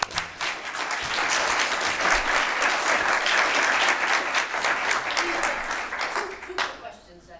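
Conference audience applauds a speaker after a talk, a dense sustained wash of clapping that holds steady for several seconds, then thins and fades out at the end.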